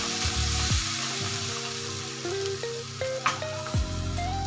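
Turmeric being stirred into a frying green chili vegetable dish in a pan: an even, close sizzle with soft stirring scrapes, over a steady low tonal hum whose pitch shifts in steps.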